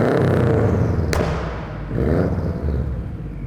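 Subaru Forester XT engine idling, heard as a loud, steady low rumble close by, broken by one sharp knock about a third of the way in.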